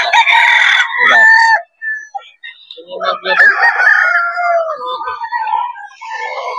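Roosters crow loudly several times in succession, their calls overlapping, with some clucking and a voice briefly in between.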